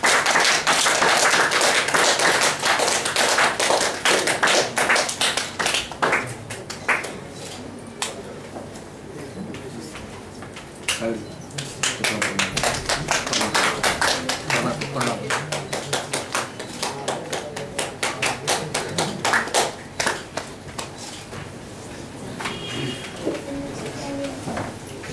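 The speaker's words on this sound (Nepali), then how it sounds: "ताली बजाएर" Scattered audience clapping breaks out at a literary book-release event, with sharp, irregular claps coming in bursts and thinning out, mixed with voices and some tapping and thumping.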